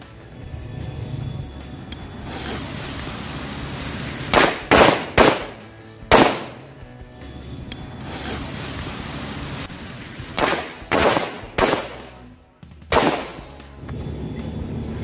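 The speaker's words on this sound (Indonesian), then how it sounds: "Ini yang selanjutnya kita nyalain mercon telur burung 1 pak." Several sharp bursts from a pack of egg-shaped firecrackers pop in two quick clusters, loud and close, with quieter crackling background between the volleys.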